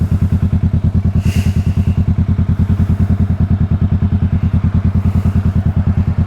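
Motorcycle on an early morning ride, a loud, close, steady engine thrum with rapid rhythmic pulsing and low rumble throughout, one brief higher swish partway through.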